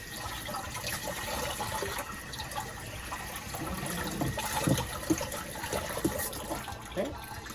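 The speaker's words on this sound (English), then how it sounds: "So we're going to rinse off the cymbal now." A cymbal being rinsed under running water, a steady close splashing flow with a few louder drips and spatters, and a voice talking now and then.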